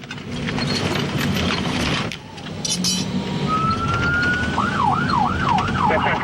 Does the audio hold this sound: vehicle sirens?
yes